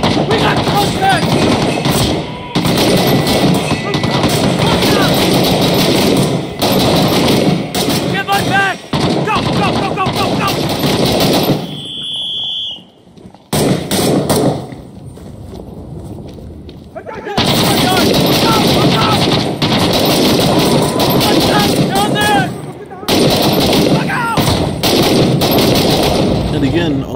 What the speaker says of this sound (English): a bunch of freaking gunfire